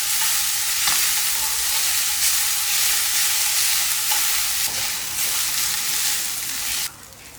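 Dill leaves and onions sizzling and frying steadily in a pan, a loud continuous crackle with occasional stirring scrapes, the hiss dropping away near the end.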